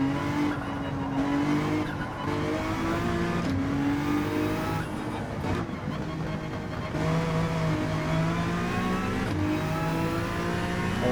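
GT3 race car in Gran Turismo 7 driven hard with stability control set low, engine roaring steadily throughout with rising and falling revs across gear changes, plus brief tire squeal and skidding as the rear end slides.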